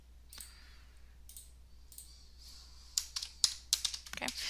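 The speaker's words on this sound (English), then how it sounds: "My keyboard is just going crazy on me today." Bursts of quick clicking keystrokes on a malfunctioning computer keyboard, near and fairly faint, arriving in short irregular flurries after a quiet stretch.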